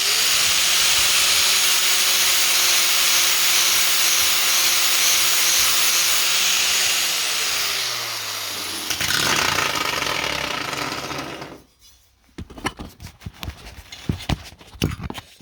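Harbor Freight 4.5-inch angle grinder with a 60-grit disc sharpening a lawnmower blade, a loud steady whine with grinding hiss that runs for about eight seconds, drops in pitch, then gives way to scattered knocks and scrapes.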